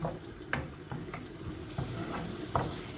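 A pot of chickpea stew bubbles and simmers steadily up close, with occasional soft pops and stirring clinks over a constant low bubbling.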